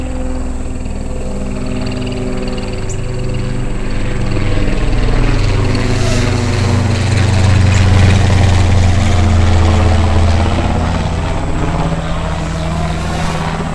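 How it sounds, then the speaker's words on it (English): A JJ R/C JJ1000 toy quadcopter drone flies nearby with a steady whirring propeller drone, swelling slightly louder midway and holding alone without talk. "and there goes a helicopter."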